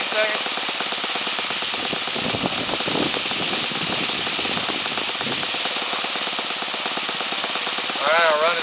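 A Saito FG-20 gas model engine idles close by, a loud, steady, even running note that holds for several seconds and rises slightly in pitch near the end.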